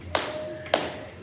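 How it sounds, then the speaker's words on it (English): Three separate sharp claps ring out close and loud, spaced roughly half a second apart, from a small audience on a casual talk show. "Yes, thank you for the clap,"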